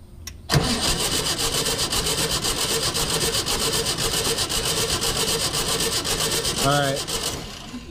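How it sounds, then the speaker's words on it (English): Starter cranking a Volkswagen Type 3 Fastback engine over with no start during a cylinder compression test, a loud steady rhythmic churning lasting about seven seconds before stopping, with a brief voice near the end. "Trav's gonna crank it over and I'll tell him when to stop"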